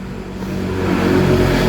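The motor of an automatic washing machine with a very loose belt spins with a steady, rising mechanical whir that builds in loudness over under two seconds, close up and without speech.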